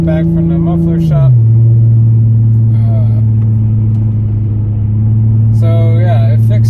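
A 2008 Infiniti G35 fresh from the muffler shop, running on new exhaust gaskets after an exhaust leak repair, idles with a steady, loud, deep drone that dips slightly in pitch early on, while someone talks over it.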